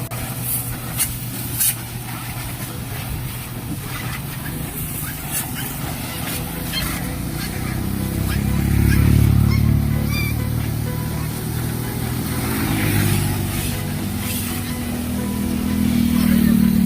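Vehicles pass along a highway beside a coin-operated self-service carwash. A steady low traffic rumble swells around the middle and again near the end, with no voices.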